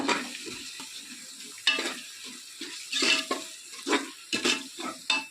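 Chilli powder and biryani masala fry in a pan for chicken biryani with a steady sizzle, while a spoon scrapes and stirs through the mixture in repeated close, uneven bursts.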